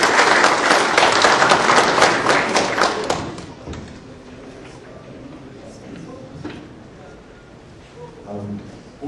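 Conference audience applauding as an engineer is introduced to speak on news from Anatel, a dense burst of clapping for about three seconds that quickly fades into a quiet room with scattered thuds and murmurs.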